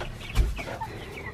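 Rhode Island Red chickens clucking in a backyard coop, a short burst of soft clucks with one louder low flutter or thump near the start, close by and faint overall.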